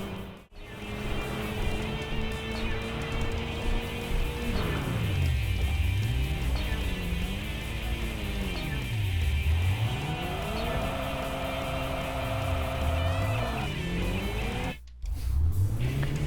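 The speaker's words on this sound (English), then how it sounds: "getting the car turned around and smashing into him and turning him around and all that" Video game car in Tokyo Xtreme Racer 3 on a highway, engines droning and revving in rising and falling sweeps as it turns around and rams a rival, continuous and close with a brief cut near the end.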